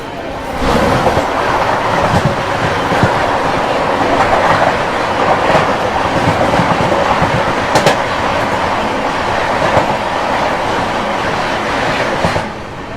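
Jhelum Express passing on the crossing track: loud, close, continuous rumble with rhythmic clickety-clack of wheels over rail joints for the whole stretch, a few brief metallic squeals, fading slightly at the end.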